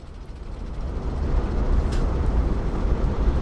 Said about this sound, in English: So this is a minecart runaway train type ride.